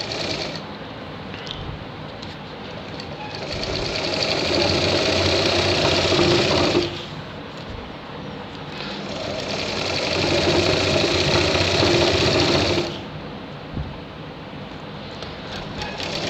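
A sewing machine stitches a shirt close by, two sustained bursts of rapid, whirring mechanical chatter separated by a quieter pause, with no voices.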